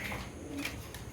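A Lahori pigeon cooing close by, a soft low throaty murmur over a brief moment, with faint background noise.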